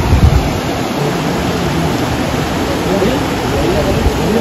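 Steady broadband rush of floodwater flowing continuously over a road, loud and close, like a torrent running across a surface, with faint voices underneath.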